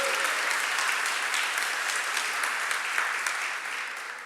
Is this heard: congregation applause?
yes